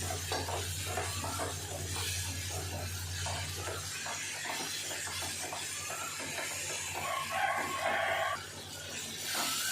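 Tomatoes for a country chicken curry sizzle and fry in a pan while being stirred and mashed. The frying hiss is continuous and close, with scraping and stirring noises throughout.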